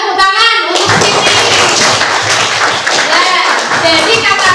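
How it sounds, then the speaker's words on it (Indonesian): Applause in an Indonesian school classroom, a dense burst of many hands clapping together that starts abruptly and runs steadily and loudly for several seconds. "Tepuk tangan untuk ini."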